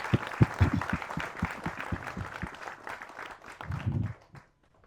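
Brief applause for a film director at a Tamil movie event, a short burst of scattered claps from a modest crowd, mixed with some voices, fading out to silence.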